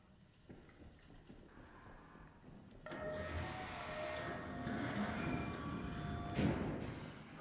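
A train passing at a distance, a broad steady rumble with a faint high whine that swells in abruptly and stays loud and rough to the end, with no voices.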